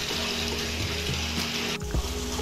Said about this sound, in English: Luckily rain came.